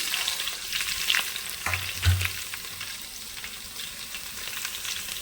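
Crushed garlic and ginger fry in a pan for drumstick pulusu, a close, even sizzle with a few stirring scrapes and a brief low knock midway, no voices.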